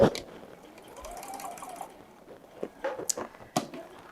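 A sewing machine stitches quilt fabric at a short 1.8 stitch length, giving soft whirring runs with a few sharper mechanical clicks. It sounds fairly faint and close, with no speech.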